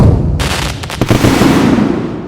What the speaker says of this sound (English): I'm gonna try to do that by placing 17 individual firecrackers in the shell